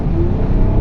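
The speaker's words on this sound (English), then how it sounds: "it does have a bit of grunt with this 3-litre engine" A 3-litre car engine revving up as it accelerates, a steady loud rumble with a rising whine, close and continuous.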